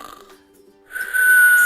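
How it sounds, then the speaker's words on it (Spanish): A cartoon snore: a quiet, breathy intake, then a brief pause, then a loud, sustained whistling exhale that carries on to the end, with no talking. "sí, un ronquido"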